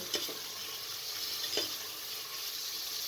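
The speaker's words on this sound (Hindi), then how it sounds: "गोश्त को 5 से 7 मिनट तक फ्राई करना है कि गोश्त का कलर चेंज हो जाए" Mutton pieces fry in a pot of oil for karela gosht, a steady sizzle with a few soft stirring scrapes, close and moderately loud with no voices.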